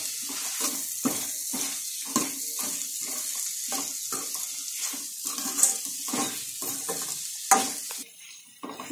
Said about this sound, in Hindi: इसके अंदर कटे हुए टमाटर डालेंगे, अब इसको अच्छे से मिक्स कर देंगे।